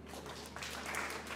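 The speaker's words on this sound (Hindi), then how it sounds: "तालियां बजाएं।" Studio audience on a comedy talk show breaks into applause, a fairly quiet, steady wash of clapping that swells slightly halfway through, with no talking.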